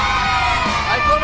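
A team of children cheers and shouts together at a large trampoline park, a brief, loud burst of crowd yelling with overlapping high voices.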